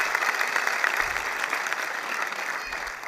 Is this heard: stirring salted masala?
no